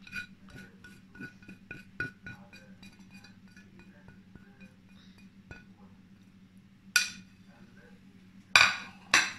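Spices and salt being stirred into buttermilk in a bowl for fried chicken batter, heard as a series of light clinks and taps of a utensil against the bowl with a low steady hum underneath, ending in a few sharper scrapes.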